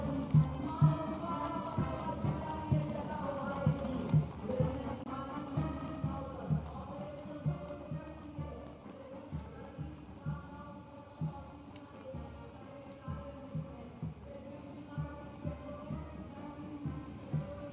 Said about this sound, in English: mounted on magnificent gleaming steeds, the 61st Cavalry Contingent, led by Captain Ahan Kumar